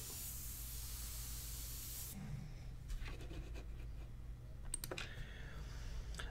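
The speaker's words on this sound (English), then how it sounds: "I'm just pulling up the airbrush, sort of creating like a comet" An airbrush spraying India ink onto paper gives a steady, close, soft hiss that cuts off partway through, followed by faint clicks and light scratchy handling noises.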